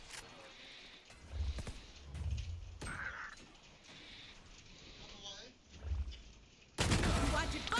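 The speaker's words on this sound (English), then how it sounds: "Beautiful shots from Jake coming through" Scattered gunshots during a competitive Valorant match, faint bursts under steady esports commentary, ending in a louder stretch of noisy action.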